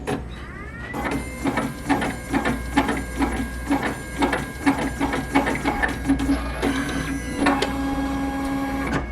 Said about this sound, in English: My husband's going to go ahead and hit the print button now.